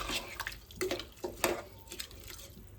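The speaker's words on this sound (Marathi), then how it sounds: "मी थोडंसं पाणी ॲड करते." Water poured into washed rice in a cooking pot for veg pulao, a short run of splashing and gurgling pours close by, with no talking.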